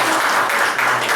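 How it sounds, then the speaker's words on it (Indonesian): Applause from a group at a sales training session, a dense continuous patter of hands clapping, moderately loud and steady throughout, with no one talking over it. "tepuk tangan, tepuk tangan"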